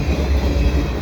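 A CN freight train rumbles past Dorval station in winter, a steady loud low roar of wagons with a faint rail hum and no talking.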